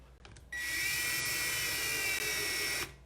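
A power drill bores into a wooden leash holder, a steady high-pitched whine starting after a brief pause and running continuously at close range before cutting off near the end.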